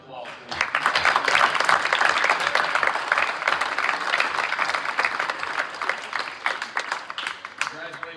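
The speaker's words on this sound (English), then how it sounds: "Let's give them a round of applause" At a school winter signing day, a gathered crowd breaks into applause for students signing letters. It swells quickly, holds strong, then thins toward the end, with some voices mixed in.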